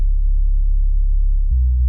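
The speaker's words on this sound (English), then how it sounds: "we have a really pure sine wave and it sounds really" A pure sine-wave sub bass made in Ableton Live for a metal track sustains steadily as a deep, clean, continuous low tone, with a slight pulse and a shift in pitch near the end, alone.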